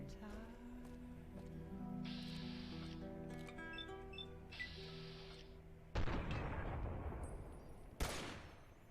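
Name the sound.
sniper gunfire in the video game Fallout New Vegas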